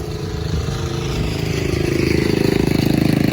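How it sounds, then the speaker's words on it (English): A 1970s farm tractor engine rumbles steadily at an old threshers reunion, its exhaust settling into a rapid, even chugging pulse that grows stronger toward the end. No voices. "I think these 70s are some of the best sounding tractors in my opinion"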